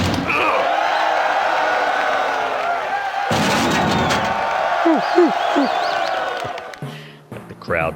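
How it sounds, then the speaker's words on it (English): Background crowd murmur and cheering at a medieval-style game show, a steady wash of many voices under someone talking, with a few sharp thuds and a brief swell near the end. "The crowd sounds in the background."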